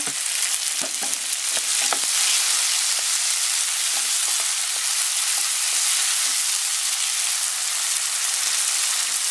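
Fresh tomato and onions sauté in a hot pan, a loud, steady hiss of frying with light stirring clicks early on, close and continuous throughout.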